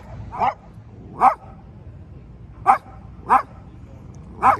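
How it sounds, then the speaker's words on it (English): A small dog gives five sharp, high yappy barks spaced about a second apart, close by, over low background rumble, barking at a Doberman at a motorcycle rally. "Don't bark at him. You're a little dog."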